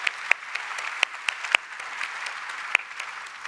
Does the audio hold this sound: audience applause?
yes